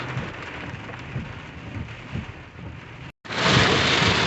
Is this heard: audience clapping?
no